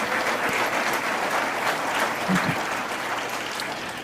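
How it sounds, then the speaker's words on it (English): Sustained applause from a large evening live-show audience, steady and dense throughout without pause. "let's give a big round of applause"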